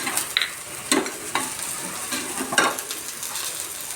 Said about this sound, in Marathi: लसूण पण फ्राय होत आलाय